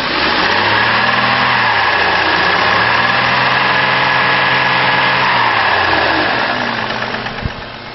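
A 2002 Chevrolet Trailblazer with a 4.2 liter engine and automatic transmission idles loudly and steadily up close, its low rumble wavering slightly before easing off near the end.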